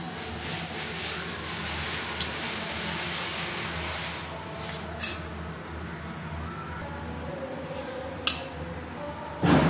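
A spoon clinks against a bowl of simai dessert during tasting, a few sharp isolated clinks spaced out over a faint, steady background hiss.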